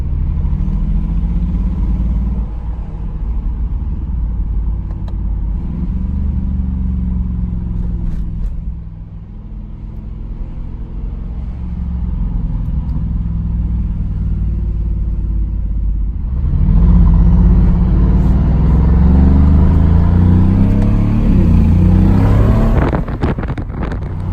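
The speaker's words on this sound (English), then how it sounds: "the turbo starts spooling pretty early" A Mercedes G63 AMG pulls away with a loud, close engine rumble that holds steady, dips briefly, then surges harder in the final seconds as revs climb and the turbo spools.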